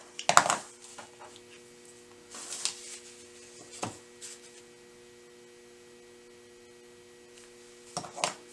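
Paper is cut along a dotted line for quilt paper piecing, giving a few short, crisp snips and slices spaced apart over a low steady hum, with quiet gaps between.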